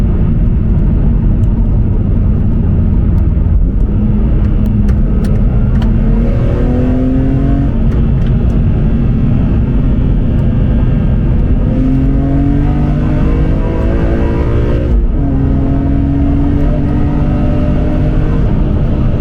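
BMW M3 CSL (E46) driven on a badly broken road, its engine loud and close as it pulls through rising revs with gear changes around the middle and again near the end, over steady road rumble.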